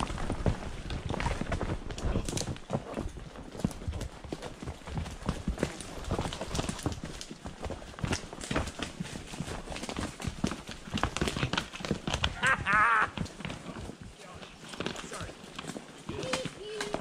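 Mules walk a rough trail while bushwhacking, their hooves making a continuous, uneven clip-clop close by, with brush rustling and voices mixed in.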